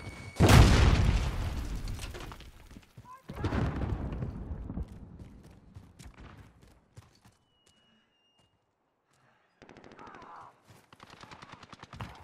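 A grenade blast booms loudly in a video game firefight, a sharp burst with a long decaying rumble, followed by a second heavier boom and later faint scattered noise.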